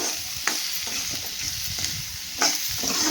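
Tamarind sautéing in a pan for a sundakkai masala curry, with a steady close sizzle of frying and a few sharp stirring scrapes over it.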